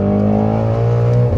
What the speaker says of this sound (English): my God, just listen to this car go